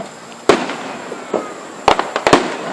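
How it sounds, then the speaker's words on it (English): Fireworks go off outdoors in a sharp scattered series, one loud bang followed after a pause by a quick cluster of three or four cracks, each trailing a brief crackle. "It's another one doing fireworks."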